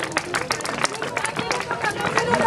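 Crowd at a kids' bike-and-run race in a schoolyard in Criel-sur-Mer clapping and cheering steadily throughout, with voices and chatter mixed in.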